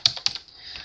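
Computer keyboard typing a short word into a design program: a brief burst of three or four crisp, close keystrokes, the first two loudest, fading into a quiet tail with no speech.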